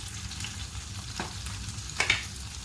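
Kingfish (surmai) pieces fry in oil in a pan, giving a steady close sizzle with a couple of brief brighter crackles near the end.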